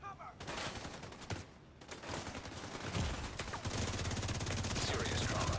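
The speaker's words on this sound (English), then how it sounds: "Who is shooting me through cover?" Rapid gunfire from The Division 2 video game, a dense fusillade of automatic weapon bursts that grows louder and more continuous toward the end, with some speech mixed in.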